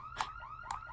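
A bank alarm sounds in a film scene, two faint electronic whooping pulses about half a second apart.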